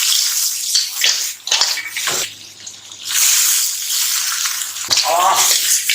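Sea lingula shellfish are rinsed in water, with bursts of sloshing and splashing between short quiet gaps, close by, while someone speaks briefly.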